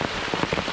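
Rain falling steadily on the Alabama Pinhoti Trail during a hike, a close, dense patter of drops hitting leaves and ground, loud and alone for a brief moment.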